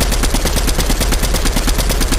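Loud, continuous automatic gunfire in Fortnite rattles in rapid bursts, close and dense, with no pauses throughout.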